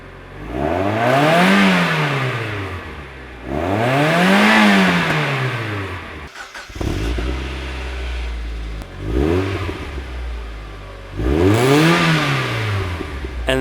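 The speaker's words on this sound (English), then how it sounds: "Here's some before and after clips so you can get a better idea of the difference it made." Mazda Miata exhaust heard in several revving bursts, each rising and falling in pitch, with a short clattery break midway before the revs resume; loud and close, no talk.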